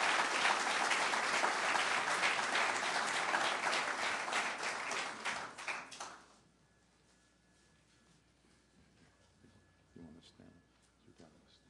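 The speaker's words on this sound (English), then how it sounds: "Let's bring her up with a warm round of applause" A warm round of applause from the audience at a mosque dedication gathering, loud sustained clapping for about six seconds, then abruptly fading to near silence with faint room sounds.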